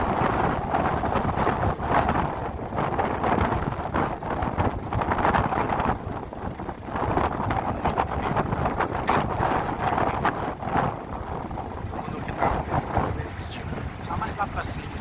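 Strong coastal wind at the breakwaters in Laguna buffets the microphone in loud, continuous gusts, with rough roaring bursts and the churn of heavy surf beneath.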